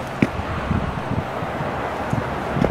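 Cool wind blows steadily beside a canal that opens out to the sea in Kyushu, Japan, a constant close rushing with a few soft low thumps of gusts hitting the microphone.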